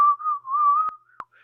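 A person whistles a steady, wavering tune for about a second, alone and close, with a couple of short sharp clicks near the end.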